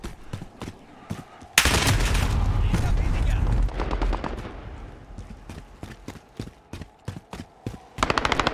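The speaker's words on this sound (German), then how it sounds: "Die schießen auf mich!" Call of Duty Modern Warfare team deathmatch gunfire: sharp repeated shots crack throughout, with a dense, loud burst of sustained firing midway and quicker shots trailing off near the end.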